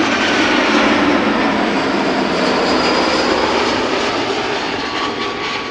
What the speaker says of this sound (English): this EasyJet A319 arriving from Gatwick